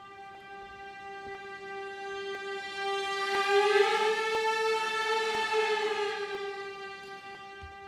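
A sustained note from live string players (Crow Hill String Murmurations, patch That Way Went), soft at first, swelling in the middle and easing back, with a smooth, slowly shifting tone.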